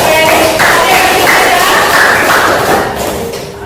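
Students in a junior high social studies classroom clap together in a loud, close burst of rhythmic group clapping that fades slightly toward the end.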